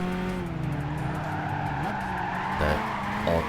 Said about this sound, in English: Locked them up to start sliding, and then tried to get on an accelerator, spin the shit out of the tires.